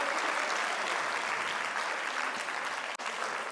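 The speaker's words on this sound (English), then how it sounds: "Give a round of applause for our friend as they join us." An audience at a women's summit applauds, a dense, steady wash of clapping that carries on evenly for several seconds.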